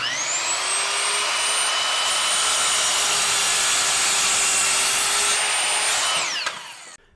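A beginner's non-sliding miter saw with a Diablo framing blade whines at full speed and bites through a wooden 2x4, a loud close steady cut that ends as the motor winds down.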